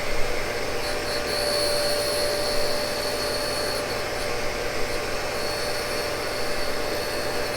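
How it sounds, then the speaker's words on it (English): A shop vacuum runs beneath a Cincinnati tool and cutter grinder that is grinding Morse tapers, pulling away the grinding dust with a steady, even roar and whine throughout and no talking. "I got a vacuum going below this."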